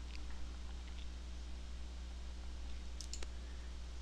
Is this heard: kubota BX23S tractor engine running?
no